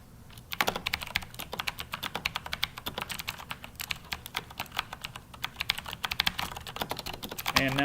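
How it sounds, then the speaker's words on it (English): Mechanical keyboard with clicky Cherry MX Blue switches being typed on, a steady run of sharp, close key clicks in quick irregular rhythm, loud and continuous with no talking. "Up next, let's hear the clicky blues."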